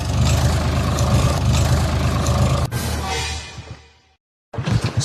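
A tractor engine running steadily on a farm field, a loud low rumble close by that fades out abruptly, drops to silence, then returns.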